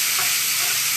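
A pan of shrimp, about a pound and a half, fries with a loud, steady, close sizzle that fills the whole moment without pause.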